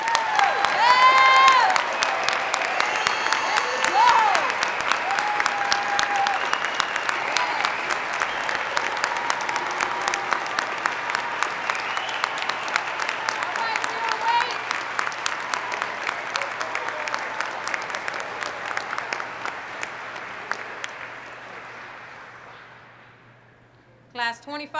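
A large crowd at a military warrant officer graduation ceremony bursts into sustained applause with some cheering and whistles, loud and dense, fading gradually toward the end before a brief voice.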